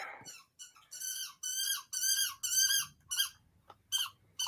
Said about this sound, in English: That's the dog playing with the squeaky toy.